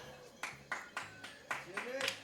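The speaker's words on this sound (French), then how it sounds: "Des applaudissements." A handful of scattered, quiet hand claps at an uneven pace during a French Téléthon charity stream of a Mario Kart 8 200cc marathon, heard under ongoing talk.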